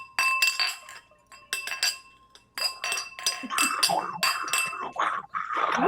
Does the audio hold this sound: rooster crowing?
no